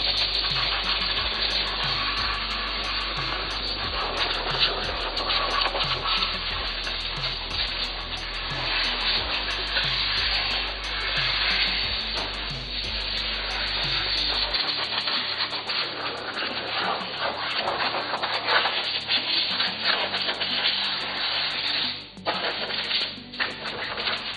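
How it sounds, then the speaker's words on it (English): Compressed air from a small compressor blasts through a freshly restored, vapour-blasted metal part, making a loud, steady broadband hiss that rushes and sputters in uneven bursts for the whole stretch, close up, with no talking. "Now we're gonna use compressed air to blow it out."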